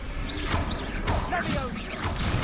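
Confringo blasting spells go off in Hogwarts Legacy, a series of about four loud whooshing bursts roughly every half second, with crashing impacts over game noise.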